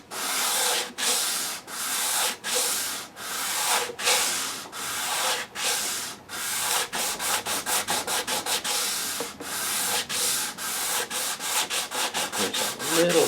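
A brush sweeps lightly over the opened fret slots of a 1959 Fender Stratocaster neck, giving steady rasping rubs in a regular back-and-forth rhythm that speeds up toward the end, close and continuous.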